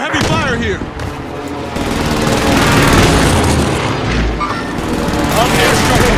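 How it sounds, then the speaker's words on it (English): Airstrike explosions in Call of Duty Warzone Pacific, loud and continuous, with heavy booms rolling into each other alongside rapid gunfire and a voice underneath. "Requesting airstrike on my coordinates."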